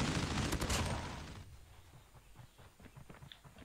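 A PP19-Bizon submachine gun fires in a video game, a loud rapid burst for about a second and a half that stops abruptly, followed by quieter scattered distant shots and ambient noise.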